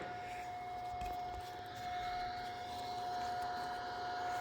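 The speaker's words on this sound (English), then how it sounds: "With the air angle grinder with the discs on there, which those are pretty aggressive grit there" A pneumatic angle grinder with an aggressive-grit abrasive disc works on the sheet metal of a Dodge Ram 2500 tailgate, giving a steady, sustained high whine with a constant roar beneath it, moderately faint and uninterrupted.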